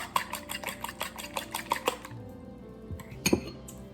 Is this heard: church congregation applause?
no